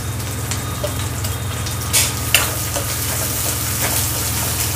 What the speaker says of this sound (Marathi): कांदा छान परतून घेऊया।